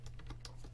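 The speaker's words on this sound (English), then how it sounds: "He's gonna keep typing." Rapid clicking of keys on a computer keyboard, steady and close, over a low electrical hum with no talking.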